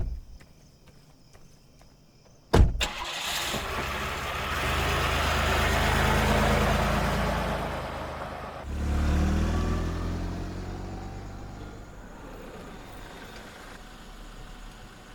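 A vehicle engine turns over with a sudden thump, then rumbles and revs steadily before pulling away and fading, close and loud with no voices.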